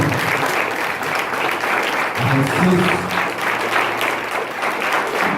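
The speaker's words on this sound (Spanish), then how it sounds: "Dale un fuerte aplauso" A church congregation claps together in a steady, dense round of applause at the close of a prayer, sustained throughout while a voice speaks briefly over it.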